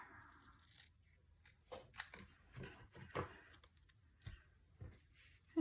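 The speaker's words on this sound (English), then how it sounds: "I'll trim a little bit more off of the top there." Scissors snipping paper while trimming pieces for a handmade card, a few short crisp cuts scattered among faint handling noises, close and fairly quiet.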